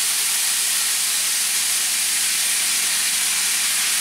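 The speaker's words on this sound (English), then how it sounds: "take your apples and you're going to just toss them right in this pan." Apples tossed into a hot pan over medium heat give a steady, loud, unbroken sizzling hiss, close up and with no break or talk.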